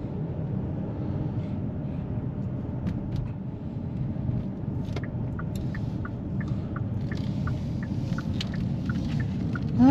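A 2021 Kia Telluride EX SUV with a 3.8L V6 and front-wheel drive on the move, a steady low cabin rumble of engine and road noise with faint clicks and ticks over it, continuous and even throughout, with no talking.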